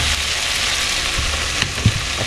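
Shrimp fry and sizzle in a pan with a steady hiss, broken by a few soft scraping and clattering stirs from a utensil.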